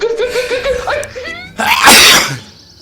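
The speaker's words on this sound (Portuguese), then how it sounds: "tentei segurar o espirro, tapando a boca com a mão" A single loud, forceful sneeze from a performer bursts out after a run of strained, rising vocal sounds, as if someone were trying to hold it in, then fades quickly.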